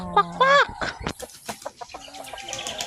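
A flock of free-range farm ducks in a rural yard calls nearby, with a few drawn-out cries at first, then a run of short, choppy quacks and clucks of varying loudness.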